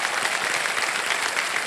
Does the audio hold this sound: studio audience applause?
yes